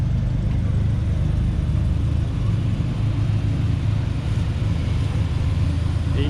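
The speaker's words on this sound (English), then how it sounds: "E-Type on tour. Sounds nice. That's a V12." A Jaguar E-Type with a V12 engine idling and rumbling nearby at a club summer festival, a steady deep low drone holding even for several seconds with light crowd ambience around it.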